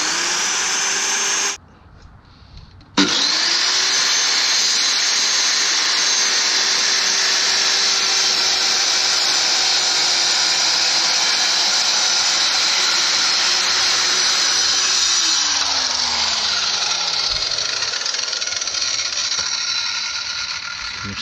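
A power tool cuts a shelf board with a loud, steady high whine that runs almost without a break, a brief pause near the start, then the motor winds down and spins out toward the end.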